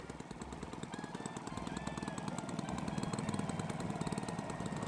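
Four-stroke nitro engine idling on a giant Piper J-3 Cub model plane, a steady close-up throbbing putter that runs evenly throughout with no talking.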